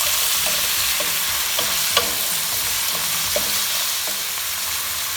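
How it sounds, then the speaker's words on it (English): Beef pieces browning in a hot pan for beef stroganoff give a steady, loud sizzle with scattered soft clicks from stirring, close up and with no talking. "So do this only for 1 minute and you'll know it's brown on all sides,"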